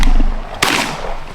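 A single shotgun blast fires during a duck hunt, a sharp loud crack that decays quickly over steady wind noise.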